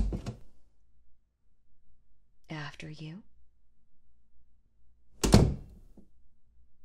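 A door in a school building opens with a soft thunk and faint slide, followed later by a second louder door thud, with a brief whispered voice between them in an otherwise quiet room.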